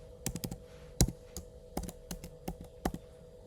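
Keys on a Mac keyboard clicking in a short, uneven burst as a password is typed, about a dozen crisp, close taps with brief pauses between, alone over a faint steady hum.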